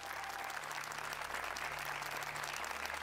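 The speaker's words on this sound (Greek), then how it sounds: "Δώστε ένα δυνατό χειροκρότημα." A game show studio audience applauds steadily, a dense continuous patter of clapping hands with a low hum beneath, sustained at even strength with no speech over it.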